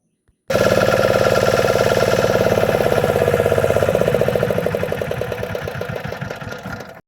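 A large fishing boat's engine runs steadily and loudly at sea during an engine check, with a rhythmic low throb, sustained throughout and easing slightly toward the end.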